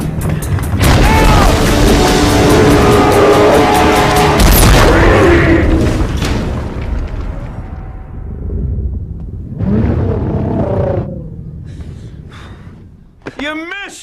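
Cannon fire from the Tremors monster movie, heavy booming blasts layered under dense music and effects for several seconds, followed by quieter rumbles and shouting voices, with a sharp high screech near the end.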